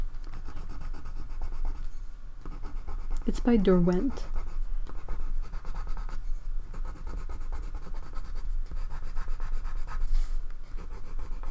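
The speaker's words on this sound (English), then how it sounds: "Let me know if the noise of the pen on the paper is annoying." A Derwent colored pencil scratches steadily across paper, close and continuous, with soft rubbing strokes throughout while a person talks over it.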